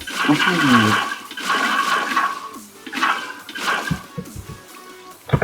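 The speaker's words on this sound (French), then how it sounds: "On peut remplir la piscine." Water pours into a swimming pool in Minecraft as a loud, rushing, splashing wash that comes in several surges, with a brief voice-like sound at the start and quieter patches between the surges.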